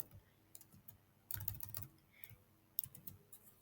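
Typing on a computer keyboard, a few quiet bursts of close key clicks separated by short pauses, faint and alone.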